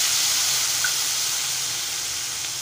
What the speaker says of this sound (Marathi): आता बारीक चिरलेला टोमॅटो घालूया